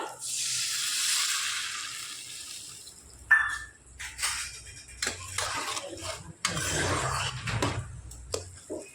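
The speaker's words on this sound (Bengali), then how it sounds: "দিয়ে দিচ্ছি এবার হাফ বাটি পরিমাণে জল" Half a bowl of water poured onto spiced vegetables in a hot pan, a loud hissing sizzle at first that fades, followed by scraping and stirring noises.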